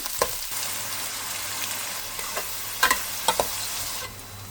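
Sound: onion and green chillies frying in hot oil

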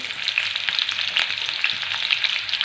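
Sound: green chillies frying in hot oil

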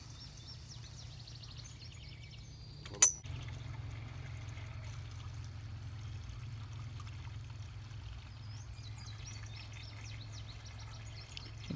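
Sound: water trickling out of a self-wicking tub hole

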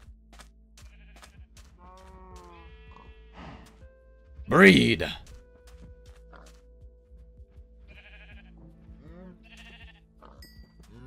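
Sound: sheep bleating in Minecraft video game

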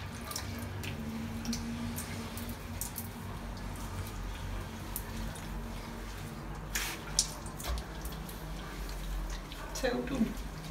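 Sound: water rinsing a greasy shower enclosure

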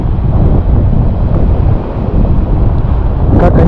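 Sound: strong wind at the seaside

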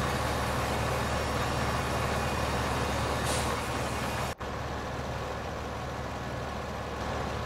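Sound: tractor engine revving, video game Farming Simulator 15

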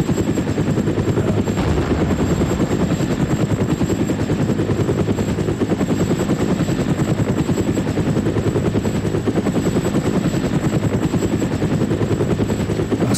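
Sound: helicopter flying in video game ArmA

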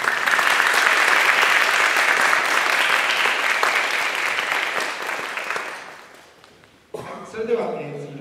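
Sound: audience applause at a trumpet festival concert

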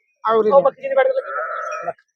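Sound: goat bleating

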